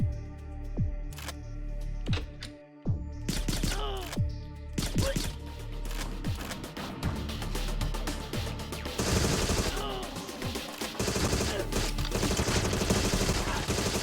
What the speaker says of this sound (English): Did he just shoot at the ceiling? I think he might have shot at the ceiling just now.